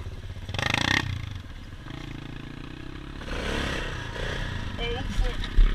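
An ATV engine revs on a night trail during a wheelie, with a rough drone, a louder surge early on and clattering toward the end, while voices talk over it.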